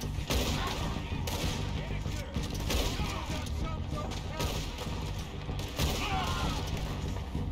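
Repeated gunfire in Red Dead Redemption 2, a dense fusillade of shots and booms running throughout, with someone talking over the shooting.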